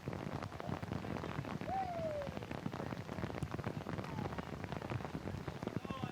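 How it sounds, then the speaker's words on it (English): Rain comes down steadily over a high school football game between Lincoln and Crestview on a Friday night. It makes a constant hiss and patter the whole way through, quiet and even, with one faint short tone rising and then falling briefly. "when it's raining like this"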